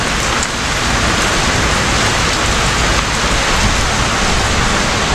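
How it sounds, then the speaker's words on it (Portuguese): Heavy rain pours steadily and loudly during a tornado warning, a dense unbroken hiss that stays constant throughout with no voices. "Apertou a chuva, ó, gente. Tá mais forte"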